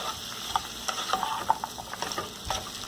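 Vegetables for mutter paneer cook in a pan with a soft, steady sizzle, broken by scattered utensil clicks and scrapes as they are stirred.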